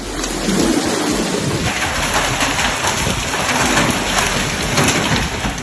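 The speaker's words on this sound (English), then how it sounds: "The hail was compact, the size of a walnut in some cases, and its fall was neither gentle nor sporadic." A violent hailstorm in the Saudi Arabian desert, with compact hailstones up to walnut size and thunder, makes a dense, loud, unbroken roar of impacts that holds steady throughout.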